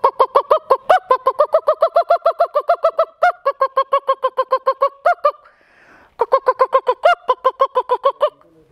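A human voice imitates a hen's alarm call, a loud, rapid, rhythmic string of clucking honks in two long bursts with a short pause between them, close and alone.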